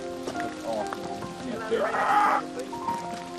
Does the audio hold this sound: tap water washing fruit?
no